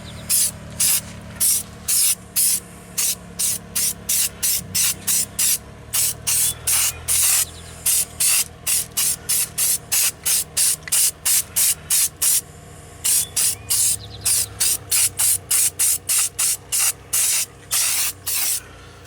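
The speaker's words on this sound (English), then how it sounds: "let's go ahead and spray it on" Repeated short bursts of aerosol spray hiss as bedliner coating is sprayed onto a truck's rear frame and hitch, in a steady on-off rhythm, close and loud, with brief pauses between groups of sprays.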